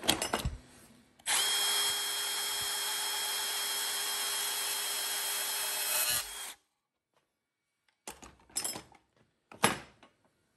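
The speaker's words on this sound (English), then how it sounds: "I'm going to go in there with my portable bandsaw and try to saw right in between both lines" A portable bandsaw cuts through a menu board workpiece for about five seconds, a loud steady whine that starts abruptly and stops, followed by a few short scraping and handling noises.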